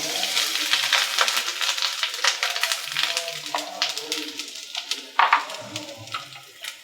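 Grated coconut, dried red chillies and curry leaves frying in coconut oil, giving a close crackling sizzle with stirring scrapes and a few louder spits and pops toward the end.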